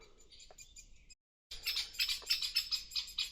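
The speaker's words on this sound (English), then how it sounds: "there's loads of chirping, as you can hear" Birds chirp and tweet busily in woodland near the Danube with big trees, a woodpecker and chicks among them; calls are sparse at first, then after a short gap a dense, fairly close chorus of overlapping chirps fills the rest.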